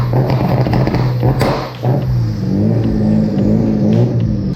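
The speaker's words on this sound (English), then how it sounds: "I'm gonna get it two-stepping and see how it works" A turbocharged car engine with a blow-off valve is held two-stepping on the rev limiter, a loud, close, continuous roar with rapid popping and banging from flames and explosions, steady throughout.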